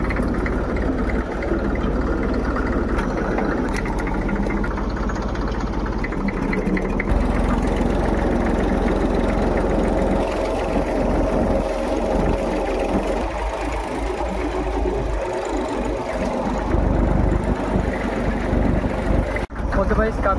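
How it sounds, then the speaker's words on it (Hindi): A tractor engine runs steadily at close range in a field, a low continuous rumble with wind buffeting the microphone and a voice talking intermittently. "काफ़ी देर से ट्रैक्टर चला ही रहा था"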